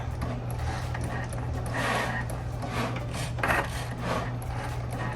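A quiet Cricut Maker 3 cutting machine hums steadily while its blade rasps and scrapes through material in repeated short passes, close by and fairly soft.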